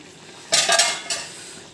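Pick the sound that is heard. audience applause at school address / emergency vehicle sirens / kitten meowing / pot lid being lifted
pot lid being lifted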